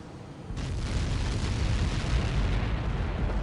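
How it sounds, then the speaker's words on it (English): A massive explosion from Helios projectiles in the video game Ace Combat 7 begins with a sudden onset, then swells into a loud, sustained rumbling roar with no voices over it. "How many got caught in that explosion?"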